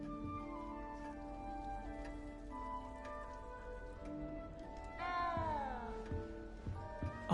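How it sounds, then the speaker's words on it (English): A frightened little cat in Hogwarts Legacy lets out a drawn, falling meow near the end, rising above a sustained musical score and soft pattering ambience. "frightened, little cat."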